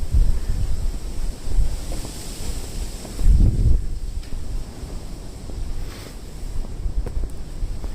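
Strong wind buffets the microphone on a Tokyo street walk, heavy low rumbling gusts that swell and ease, with a sharp surge partway through over faint background hiss.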